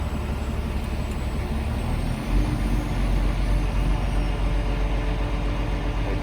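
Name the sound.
truck engine idling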